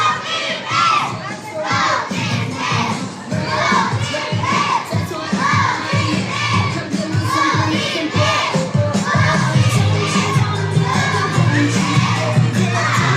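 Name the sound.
children cheering at a sports event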